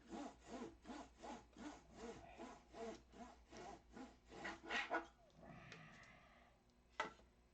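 A hand saw cuts through wood for a control-line model aircraft build: about a dozen steady, rasping back-and-forth strokes, close and clear, then the cutting stops and a single sharp knock follows.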